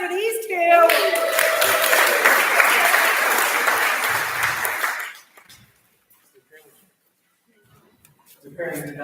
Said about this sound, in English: And a round of applause for these two.